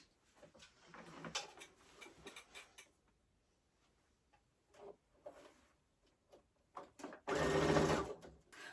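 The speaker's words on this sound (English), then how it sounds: "I'm going to take it over to my sewing machine and sew those down" A sewing machine stitches down a kids' fabric face mask in short stop-and-start whirring bursts, with light clicks and handling noises between, ending in a longer, louder run of stitching.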